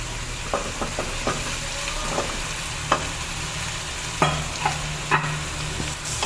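Steady frying sizzle with a spoon scraping and stirring through potatoes and eggplant in a pan, occasional clinks, no voices.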